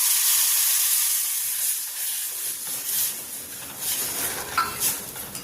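Vermicelli being roasted and stirred in ghee in a kadai while browning it for kheer, a steady close sizzle and hiss with scraping stir strokes that grow busier toward the end.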